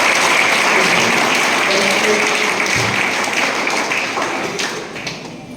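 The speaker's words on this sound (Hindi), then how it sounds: "इनके लिए जरा तालियां हो जाए।" Seminar audience on parenting and technology gives a round of applause, a loud, close, continuous clapping that holds steady for several seconds and then gradually thins out.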